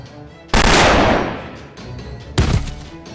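Gunfire cuts in with a loud, sudden blast that decays over about a second, followed shortly by a second sharp report, both close and dominant.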